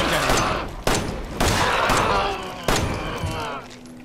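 Heavy handgun shots in the survival horror game Resident Evil 7, four loud close blasts spaced about a second apart, each with a ringing decaying tail, with a voice speaking between them.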